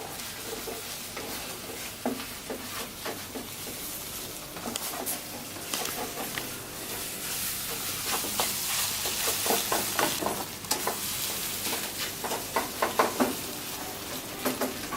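Eggs with garlic and parsley being scrambled in a hot pan, with a steady sizzle and repeated scraping and stirring strokes that grow busier toward the end, close by with no talking.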